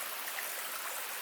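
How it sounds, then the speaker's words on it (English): A small glistening creek at Dash Point State Park flows nearby in a steady, even wash of water with no pauses, moderately quiet and alone with no voices. "there's this creek coming through here that is kind of a glittering, glistening little creek"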